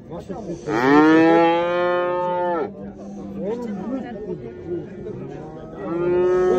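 Cattle moo at a livestock bazaar in Karakol, with a long, loud bellow nearby, then murmured crowd noise, and another moo starting at the end.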